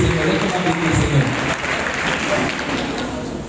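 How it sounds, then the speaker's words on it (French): Church congregation applauding at a charismatic prayer assembly, a dense steady wash of clapping filling the space, with voices mixed in throughout. "Donne une acclamation au Seigneur"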